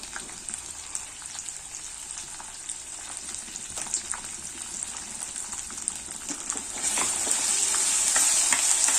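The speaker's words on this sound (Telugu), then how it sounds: "ఈ మిశ్రమం మొత్తం ఫ్రై అయిపోయాక మనం ముందుగా రెడీ చేసి పేస్ట్ చేసి పెట్టుకున్న గోంగూర పేస్ట్ని ఇందులో వేసుకున్నాను" Gongura (sorrel leaf) paste fries in a pan with a spiced mixture for gongura pulihora. A close, continuous sizzle carries light stirring scrapes and grows louder and fuller toward the end.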